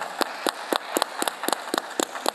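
A conference audience claps steadily for the sponsors, about nine or ten sharp, evenly spaced clap bursts from a small crowd, close and crisp with no talking.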